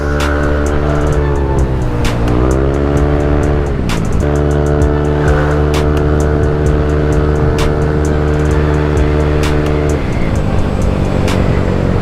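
A Yamaha Aerox scooter engine fitted with an RS8 version 4.2 tune revs loud and close, its pitch climbing and dropping in sweeps with a sustained high hold between them.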